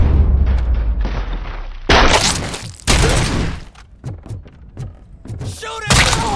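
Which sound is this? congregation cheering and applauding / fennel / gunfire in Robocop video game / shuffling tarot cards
gunfire in Robocop video game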